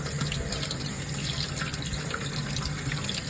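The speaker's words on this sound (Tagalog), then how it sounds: "maghuhugas tayo ng kalamyas. Hugasan natin itong mabuti" Kamias fruit rinsed under a running kitchen tap, a steady, loud rush of water splashing into the sink without a break and with no voices.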